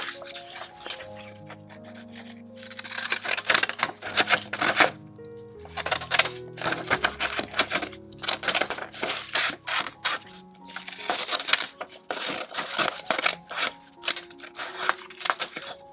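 Crafting scissors snip through paper for a decorative-edge scrapbook cutout, heard as close, repeated crisp clicks and rustles in irregular bursts, with the paper shuffling between cuts and no talking.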